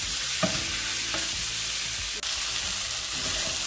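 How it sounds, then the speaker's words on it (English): Half a cup of chopped kimchi frying in a Caraway non-stick pan for fried rice, a steady sizzle with intermittent spatula scrapes and stirring knocks, one sharp tap midway. "half a cup of kimchi, and we're gonna cook off some of the moisture so we don't have soggy fried rice"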